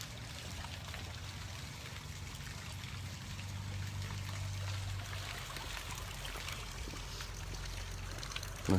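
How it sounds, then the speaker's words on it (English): A public brook flows steadily in an outdoor town setting, a soft continuous trickle and babble of water with a low rumbling undertone throughout. "Listening to the public brook,"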